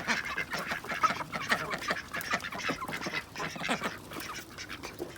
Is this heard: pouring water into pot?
no